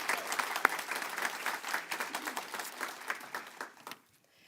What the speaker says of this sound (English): I just want to make sure that we give Karen and her team a really big round of applause